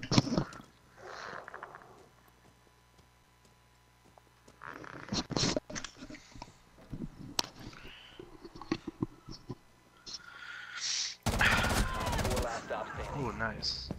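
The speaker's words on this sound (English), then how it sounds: "That gun shoots fast, eh?" Rapid gunfire in the video game Rainbow Six Siege, a fast-firing gun sounding in quick bursts, with a dense, loud stretch of shots near the end among other in-game clatter.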